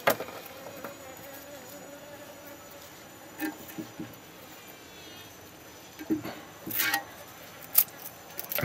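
Meliponula beccarii stingless bees buzz faintly around a nest set in a jar, a thin, soft insect drone with a few brief louder passes and light handling knocks.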